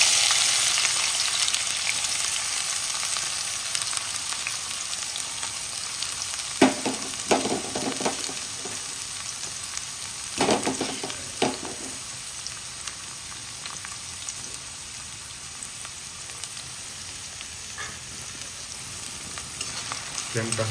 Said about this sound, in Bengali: হালকা ব্রাউন হওয়া পর্যন্ত আমরা পেঁয়াজটাকে ভেজে এরপরে টমেটোটা এর মধ্যে অ্যাড করব